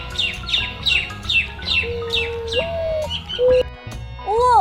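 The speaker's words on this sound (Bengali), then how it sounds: "ঘতে ঘুঘু পাখি ডাকছে গাছি" A dove calling from a tree, a run of rapid chirping notes followed by several sustained tonal calls and rising whistles, clear and fairly close.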